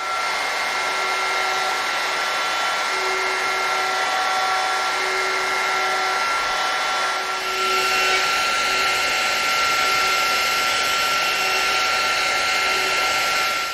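A router cutting hinge mortises guided by a mortising jig: a steady, high-pitched electric whine that holds level throughout, with the tone shifting and growing slightly louder partway through as the bit bears into the wood.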